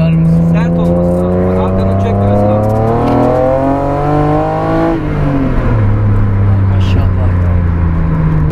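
BMW E30 325 tuned to 328 horsepower pulling away on the road, its engine note climbing in rising harmonic sweeps through the gears, loud and close from inside the cabin, with someone talking over it.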